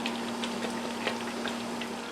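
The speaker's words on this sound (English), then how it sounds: "the hot water bath has just come to a boil as well" A hot water bath for canning black currant jam boils at a steady, dense simmer, with a constant hiss and soft bubbling.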